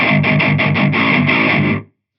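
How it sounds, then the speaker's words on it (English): An electric guitar played through a Black Cat Djentonic distortion pedal into a speaker gives loud, gritty, raw distorted chugs in a quick rhythmic run that stops sharply just before the end. "it makes it a lot grittier and a lot rawer, the distortion sound"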